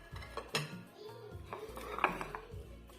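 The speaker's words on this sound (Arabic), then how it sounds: "صافي غنغسل هذا الرز." Rice being washed in a metal pot for a Moroccan rice dish with meat and vegetables: scattered clinks and scrapes of metal and grains, soft swishing between knocks, close and fairly quiet.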